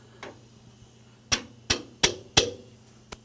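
Four sharp metallic taps on pump bolts during a rebuild come in quick succession, a faint tick before them and another after, close and clear against a quiet background.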